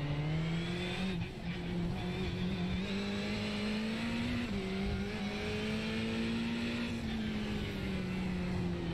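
Ferrari race car lapping Fuji in the iRacing sim, its engine a continuous high whine that rises and dips through gear changes and corners, steady and close with no talk.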